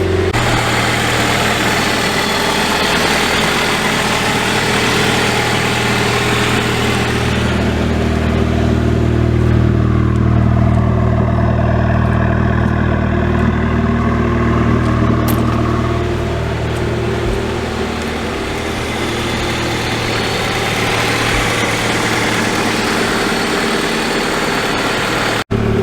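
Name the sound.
Honda Prelude engine idling while warming up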